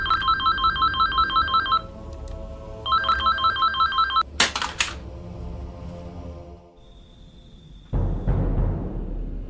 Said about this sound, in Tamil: ஃபோன் அடிக்குது பாருங்க.